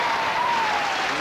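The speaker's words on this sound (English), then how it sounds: "give them a welcome round of applause" Audience applause greets married-women pageant contestants at a hotel venue, a loud, steady burst of clapping from a large crowd.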